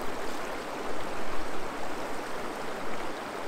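Cold mountain spring water pours and splashes steadily while a face is rinsed outdoors, a continuous close rushing wash with slight swells, and no voices.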